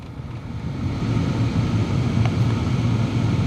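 A Volvo V70 heater blower fan running at full speed inside the car, a steady low whooshing rumble that rises slightly after the start and holds evenly.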